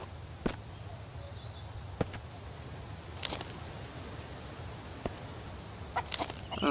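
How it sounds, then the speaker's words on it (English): A chicken in the survival game Mist Survival gives a few soft scattered clucks over a quiet low ambient hum, with occasional light taps like footsteps. "Shush, chicken."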